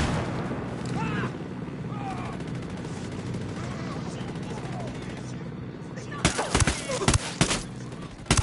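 A flashbang grenade from the video game Ghost Recon Wildlands goes off with a cluster of sharp, loud cracks and bangs near the end, after several seconds of rumbling game ambience and distant chatter.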